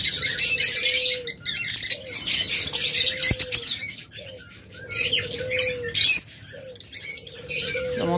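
Pet lovebirds, budgerigars and cockatiels kept in cages for sale chirp and squawk in a busy, overlapping chorus, with bright rapid tweets and repeated mid-pitched calls close to the listener, with some wing flutter and no talking.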